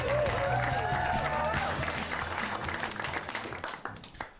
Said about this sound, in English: keep that applause going for Perri Cassie